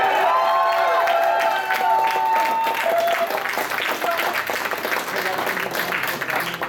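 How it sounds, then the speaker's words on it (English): A convention crowd at an anime-themed game show breaks into loud, sustained applause and cheering with whoops, while a host's amplified voice carries over the noise. "You really want to cheer them on now, guys."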